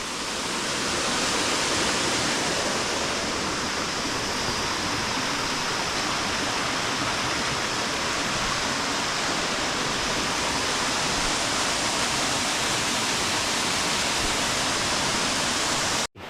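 Steady, loud rushing of falling water at Mibam waterfall in the Omani desert, a constant broadband roar with no pauses, close by and unchanging throughout.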